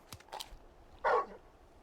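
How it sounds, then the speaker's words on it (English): Torgal, the dog in Final Fantasy XVI, lets out a single short, loud bark near the end, preceded by faint quieter sounds. "You're just a big puppy"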